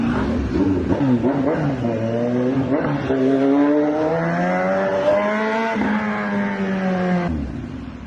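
Car engines and passing traffic on a morning ride roar close and loud, with rising and falling revs, engine tones sweeping upward as vehicles accelerate, and a steady rumble that fades slightly at the end.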